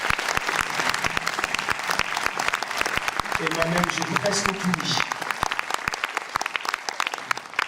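Audience applause at a short-film festival award ceremony in Trégueux, steady dense clapping filling the whole stretch while a speaker talks over it.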